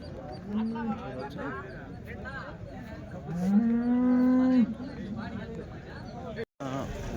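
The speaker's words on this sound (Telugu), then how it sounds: "ఉలిస్టన్ అండ్ జెర్సీ ఆవులు అయితే ఉన్నాయండి" Holstein and Jersey cows moo several times at a weekly cattle market in Punganur, one long loud low call in the middle, amid a busy outdoor crowd with people talking nearby.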